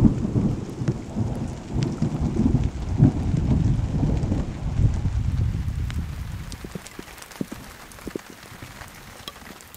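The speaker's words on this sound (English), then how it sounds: "Great little storm there." A wilderness thunderstorm with heavy rain showers and thunder: rolling low rumbles and dense rain patter build loudly, then ease into scattered drips and lighter rain.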